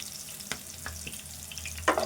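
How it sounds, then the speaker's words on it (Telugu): Chopped medium onion fries with turmeric in a pan, a low continuous sizzle with a few sharper crackles and a stir near the end, with no talking. "ఫస్టే కట్ చేసుకున్న ఉల్లిపాయ వేసుకుందాము"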